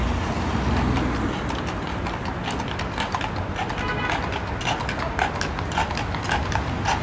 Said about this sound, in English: And here you'll have all the horses.